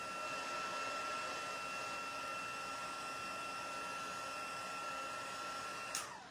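Heat tool blowing a steady, even whir to melt embossing powder, constant and fairly close for several seconds before cutting off abruptly at the very end.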